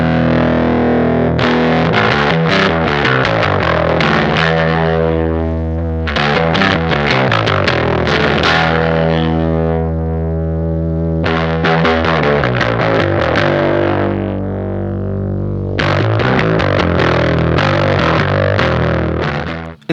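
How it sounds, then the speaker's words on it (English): Bass guitar played through a heavy fuzz distortion, thick and buzzing, in a steady driving riff with a few short pauses. "let's turn up the fuzz"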